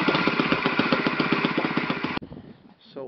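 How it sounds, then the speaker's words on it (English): Enya 60 four-stroke glow model engine running on an OS Type F glow plug, a loud rapid buzzing drone that cuts off abruptly, followed by a brief quiet tail with a faint voice. "So this run is with old OS 4-stroke Type F low plug."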